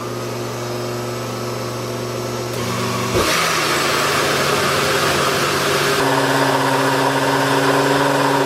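A kitchen blender running steadily with a continuous motor whine and whirring, close and loud, its pitch shifting and the sound growing harsher partway through as the load changes.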